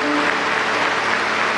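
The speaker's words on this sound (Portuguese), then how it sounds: "Palmas para Jesus Cristo." A congregation claps together inside a cathedral during a Catholic Mass, a dense, steady wash of applause that holds at even loudness throughout with no break.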